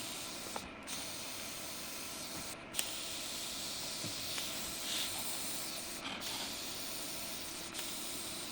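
Very hot steel nuts fresh from TIG welding work hiss steadily as they cool in snow outdoors, a continuous soft sizzle with faint crackles and no talk.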